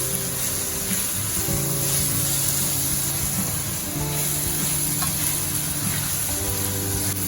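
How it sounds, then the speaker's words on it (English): Anchovies (ikan bilis) frying in plenty of oil, a continuous hissing sizzle heard close and fairly loud, steady with slight fluctuations and no voices. "So now I'll just fry everything."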